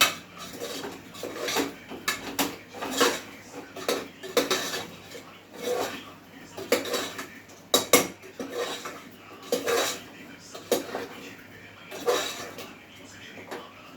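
Spiced potatoes being stirred in a pressure cooker, a spoon repeatedly scraping and clinking against the metal pot in an uneven rhythm, close and moderately loud, with no talking.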